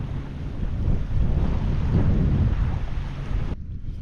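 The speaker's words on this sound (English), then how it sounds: "You'll have to excuse the wind." Strong wind of about 20 to 25 mph roars across an open microphone on the water while testing a Newport NK180 PRO electric kayak trolling motor, a steady loud buffeting rumble that cuts off abruptly near the end.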